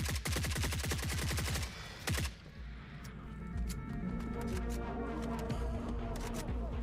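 A fast burst of loud gunfire in the video game Forever Winter, credited to shotguns, fills the first two seconds. A few quieter scattered shots and rustling follow.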